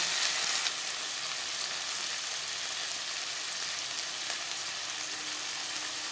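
Two tomatoes sizzle lightly in hot oil in a pan while making vegetarian chana dal, a steady close hiss that runs evenly throughout with no talking.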